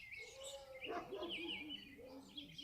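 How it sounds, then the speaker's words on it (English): Faint birds chirping and calling in the distance, with ducks and geese overhead in spring, a busy mix of short tweets over a soft outdoor background, with no voices. "There's all the birds and ducks and"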